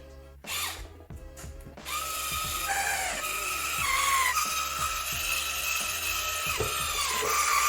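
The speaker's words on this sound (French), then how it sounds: "Il ne reste plus qu'à visser l'autre partie et on aura terminé." A power drill screws the battery enclosure onto an Evolve GT electric skateboard, with short whirring bursts that start and stop repeatedly and rise in pitch, close and loud, and some clicks and handling in between.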